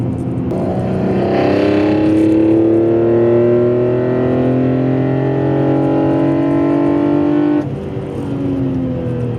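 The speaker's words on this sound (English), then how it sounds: "Just revving it out, it sounds so freaking good" A BMW E46 M3 inline-six engine with velocity stacks revs up with a smooth, climbing pitch that holds loud and strong for several seconds, then drops off as the throttle eases.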